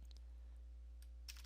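Keys clack on a computer keyboard while typing a command on a Dell Inspiron 7000 laptop; a few sparse, faint taps over a steady low hum, with a sharper cluster of clicks near the end.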